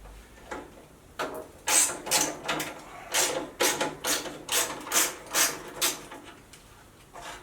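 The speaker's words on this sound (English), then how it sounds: "there's just a couple of bolts, a couple of nuts and bolts I just need to loosen off" A spanner clicks on a ratchet while nuts and bolts are loosened to remove a gearbox and axle, a close run of sharp, rhythmic metallic clicks in short bursts, with no talking.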